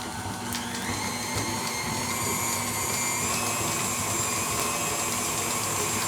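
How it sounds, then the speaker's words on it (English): An electric mixer whips a sugar scrub base, a loud continuous motor whine with a steady high-pitched drone that holds unbroken from start to finish, close and with no talk. "I'm going to whip it, and then I'll add the second oil after I whip it."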